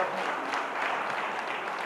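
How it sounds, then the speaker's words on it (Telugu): Quiet, steady audience applause at a one-day workshop, a room of people clapping together for a speaker, soft and even with no talk over it. "గట్టిగా చప్పట్లతో ధన్యవాదాలు తెలియపడదాం"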